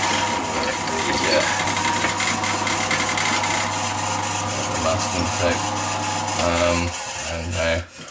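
A drill bores the draft hole through a wooden tobacco pipe on a lathe, a steady loud grinding whir with rasping scrape that runs throughout, then slows and stops at the end, with a voice speaking briefly.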